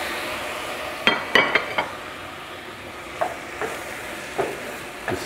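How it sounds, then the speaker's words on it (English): Chopped tomatoes tossed onto garlic in a hot pan on a kamado grill set off a low steady sizzle, broken by a quick cluster of utensil clinks and then a few scattered taps. "All right, I'm gonna throw my chopped tomatoes in."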